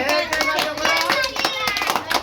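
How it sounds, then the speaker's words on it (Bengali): Hands clapping for a birthday celebration, a quick run of sharp claps repeating steadily through the moment while voices chatter and sing along over them. "তালি দে হ্যাপি বার্থডে"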